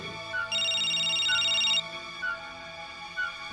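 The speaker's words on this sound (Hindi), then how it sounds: "अरु फोन उठाओ।" An electronic phone ringtone plays a bright tone burst followed by softer repeated beeps over a faint musical background.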